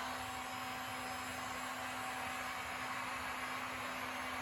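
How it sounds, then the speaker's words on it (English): A heat gun blows steadily on poured resin in a swipe-method pour, a constant close-up whirring rush with a faint tonal hum and no talking. "You can hit that with that heat gun."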